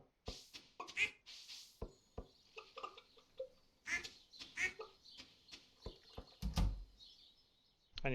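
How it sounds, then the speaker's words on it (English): Ducks quacking in the farming video game Stardew Valley, a run of short bursty calls repeating through the scene, fairly close and moderately loud, with a low thump near the end. "I let the ducks out."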